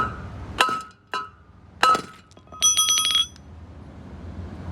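Several sharp metallic strikes on a valve tool from a new car, hammered to test the hardness of its steel: a few ringing clinks with bright glassy overtones, then a denser rattling burst, close and loud, with no talk.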